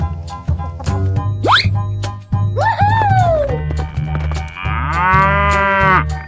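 A cow moos in drawn-out, rising and falling calls, loud and near, over a bouncy children's music track with steady beats.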